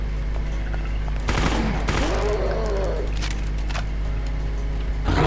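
Gunfire from a shotgun-style weapon in the Brutal Doom video game mod running on GZDoom, with a couple of loud blasts and in-game monster noises, while someone talks over the action.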